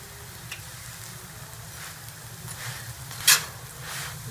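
Anda paratha fries on a hot pan with a soft, steady sizzle, faint and even, broken by a few light scrapes and one brief sharp clink near the end.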